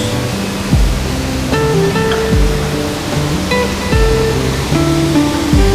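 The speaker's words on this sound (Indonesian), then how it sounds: "Debit airnya besar banget, keren." A large river rushes past with a heavy flow of water, a loud, steady roar close by that carries on without a break and with no talking.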